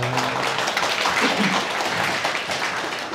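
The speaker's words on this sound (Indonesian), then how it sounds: "Wah, tepuk tangan semuanya" Audience applause after a talk on finance and technology, a brisk spread of clapping from a seated crowd, steady and fairly close, with faint voices mixed in beneath.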